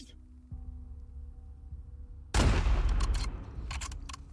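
Sniper gunfire in the video game The Last of Us Part II: a sudden loud broadband burst of shots midway, followed by sustained gunfire and crackling, after a quieter stretch of low game ambience.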